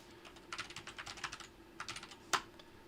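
Computer keyboard typing, quiet and close, with two quick bursts of rapid keystrokes and a single sharper key press at the end.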